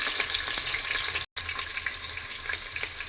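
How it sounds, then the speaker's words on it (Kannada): Onions frying in a pan until browned for a festive home-style dish, a dense continuous sizzle with a brief cut in the middle; no talking. "ಮುಸ್ಲಿಂ ಸ್ಟೈಲಲ್ಲಿ ಈರುಳ್ಳಿ ಕೆಂಪಾಗಬೇಕು ನೋಡಿರಿ"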